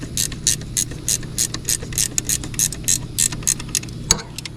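A ratchet wrench snugs bolts on a Kubota KX excavator during service, giving a loud, close series of rhythmic metallic clicking bursts in steady pulses with no talking.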